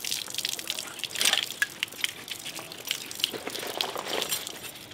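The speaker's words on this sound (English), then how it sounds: "press the button here to get water out, to drain all the water out of it" Water drains and splashes out of scuba gear held upside down after soapy cleaning, giving an uneven trickling and dripping gush, close and moderately loud.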